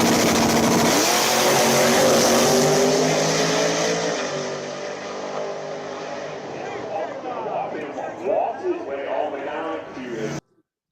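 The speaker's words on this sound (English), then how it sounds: "Nitrous car." A nitrous-fed drag racing car with a TRE 588 X275-legal motor and one nitrous kit roars down the strip, a loud sustained engine howl that fades into the distance as people talk over it.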